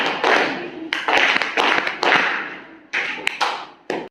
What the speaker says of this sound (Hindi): तालियां बजा दो जोरदार, बहुत जोर से